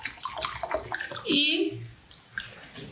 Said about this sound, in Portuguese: Depois vamos despejar a água de volta